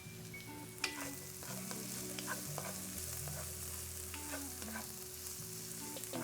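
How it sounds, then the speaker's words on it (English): Sweet corn stirred into rice frying in a pan over medium-high heat, a soft steady sizzle with scraping stir sounds, quiet and near, no voices. "We're gonna add in our sweet corn."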